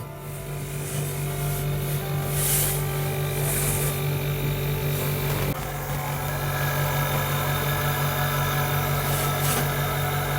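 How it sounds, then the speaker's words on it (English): A Nikai mini fridge compressor, under repair for not cooling after evaporator damage and R600a regassing, hums steadily and continuously at close range with no talking. "this compressor start"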